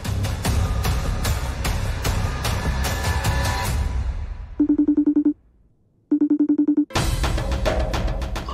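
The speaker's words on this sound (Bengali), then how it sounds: "আননোন নাম্বার থেকে আমাকে ভিডিও কল করছে।" A mobile phone left charging in a hospital room rings with an incoming video call from an unknown number, two short bursts of a bright electronic ringtone separated by a pause, between stretches of busy background music.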